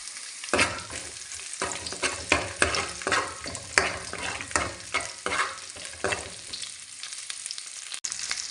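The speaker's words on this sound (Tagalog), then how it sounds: "Igigisa na nga po natin yung bawang. Tapos nga po yung sibuyas." Garlic then onion sizzling as they sauté in a pan, with repeated scraping stirs and clinks of a utensil over a steady frying hiss, close up and with no talking.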